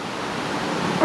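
Water runs steadily along a man-made leat in Cornish woodland near an old mine and waterfall, a close, even broadband rush that swells slightly louder at the very end.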